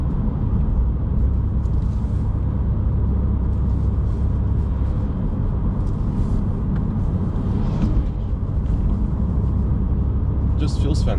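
A short-wheelbase, rear-wheel-drive car cruises normally along quiet back roads, its steady engine and tyre rumble continuous and close throughout.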